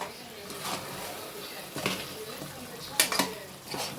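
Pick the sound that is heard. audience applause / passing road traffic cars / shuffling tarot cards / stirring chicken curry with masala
stirring chicken curry with masala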